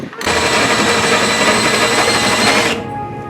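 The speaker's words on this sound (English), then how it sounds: "our drill bit's down to just polishing metal now." A steady, loud mechanical whine and grinding from a dull drill bit drilling metal tubing, running continuously for about two and a half seconds, then cutting off abruptly.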